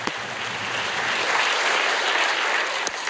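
A comedy club audience applauds steadily, a dense wash of clapping hands that stays loud and even throughout without cheering.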